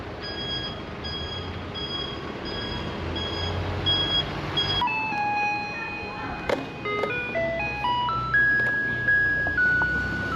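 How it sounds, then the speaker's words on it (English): Music played by a garbage truck on a street in Asia, a steady electronic melody of bright tonal notes over continuous traffic and engine rumble, moderately close and persistent throughout. "In case you were wondering, that music's coming from a garbage truck."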